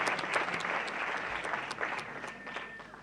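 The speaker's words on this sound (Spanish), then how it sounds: "Pido un aplauso para él, ya que viene en representación." Audience applause at the inauguration of a national Cervantes congress, a steady wash of clapping hands from a hall crowd lasting a few seconds, moderately faint and heard without talk.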